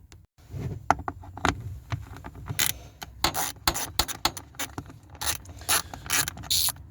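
Screws being undone from the heater fan in the footwell of a Rover 45, a series of sharp clicking and ratcheting bursts with brief scrapes, close up and irregular, over quiet background.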